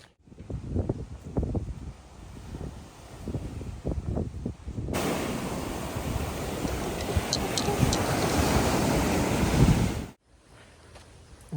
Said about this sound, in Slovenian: voda tako visoka, pa pač valovi so zdaj monsunsko obdobje v bistvu tukaj